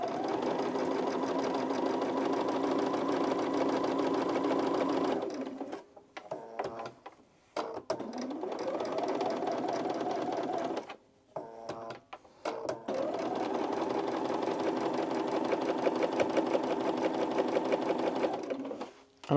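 A sewing machine runs in long, steady stitching bursts along a seam of an oversized plus-size blazer, stopping twice for pauses filled with clicks and fabric handling before whirring on again, loud and close.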